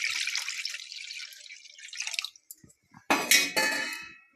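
Water runs from a tap and then splashes into a wok of chopped potatoes on a gas stove, with two loud pours late in the moment separated by brief quiet.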